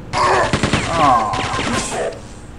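Enemy gunfire in the Quake 2 video game, a dense, loud burst of rapid shots with metallic whines and mechanical sounds layered over each other, continuous for a couple of seconds.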